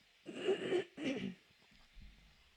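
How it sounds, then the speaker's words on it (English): A person clears their throat in two quick rasping, voiced bursts close to the microphone, followed by a soft low rumble. "getting frustrated with having to clear my throat."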